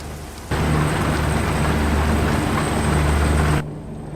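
Steady rain noise from Euro Truck Simulator 2, the Grand Utopia map, drumming continuously for about three seconds over a low engine hum, then cutting off abruptly.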